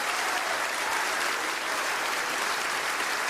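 A church congregation applauding loudly and continuously, a thick, even wash of many hands clapping together with no break.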